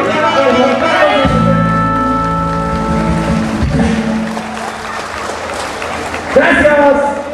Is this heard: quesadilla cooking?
no